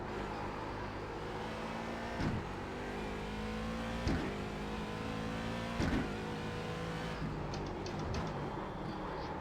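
A Daytona Prototype race car's engine drones loudly and steadily on track, with rising and falling pitch as it revs through gears and several sharp shift blips punctuating the run.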